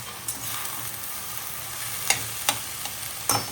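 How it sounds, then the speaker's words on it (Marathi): Cluster beans fry in a home kitchen pan with a steady soft sizzle, and a few crisp clinks and scrapes from stirring punctuate the second half, all without talk. "बघा आपली गवारी सुद्धा चांगली भाजलेली आहे."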